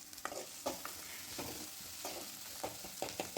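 Onions frying in a pan toward golden brown for a Nellore-style bottle gourd curry, a steady sizzle broken by scraping stirs of a spoon at irregular intervals, close and moderately quiet.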